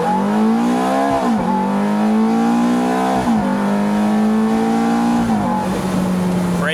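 A 2005 Ferrari F430 Spider accelerates hard, its engine note rising loudly through the gears with brief dips at each shift, heard close and continuous throughout.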